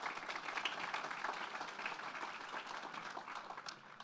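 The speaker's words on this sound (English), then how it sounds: "can we just give another round of applause for all the startups?" An audience at a tech startup summit gives a round of applause for the evening's startups, a soft, distant wash of clapping that carries on steadily without any voices over it.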